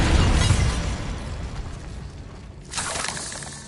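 A Bombarda blasting spell explodes in a wizard video game, a loud, booming blast that slowly decays, followed by a second crackling burst of debris and rumble.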